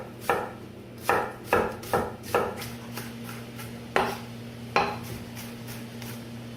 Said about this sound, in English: So we chopped our onions and we put it in our bowl